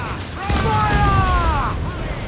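Ship cannons firing in the Assassin's Creed 4 Black Flag video game: heavy booming volleys over a continuous roar of battle, with a shouting voice rising over the din midway.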